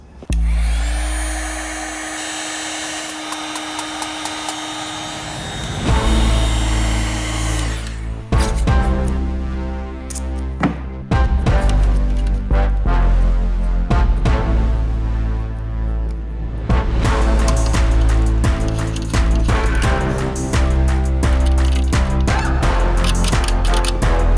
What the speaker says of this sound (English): I'm going to go ahead and heat shrink these.